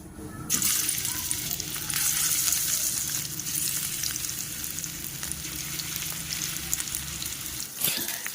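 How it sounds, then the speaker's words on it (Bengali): Four pieces of spiced rohu fish frying in hot oil in a pan, giving a loud, steady sizzle that continues without a break and ends in a brief clatter. "মাছটাকে ভালো করে মেখে আগে ভেজে নিচ্ছি"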